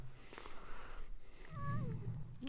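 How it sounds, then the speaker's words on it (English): A cheetah gives a short, high-pitched, chirping meow, faint and brief, followed by a low rumbling roar from a lion nearby, with no speech. "Oh, and a little meow from Mr. Lavani"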